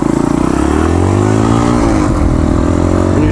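A motorcycle engine revs loud and close, throttle rising and falling in a steady, throbbing run as in a rev-matching demonstration.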